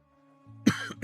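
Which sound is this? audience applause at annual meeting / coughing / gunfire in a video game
coughing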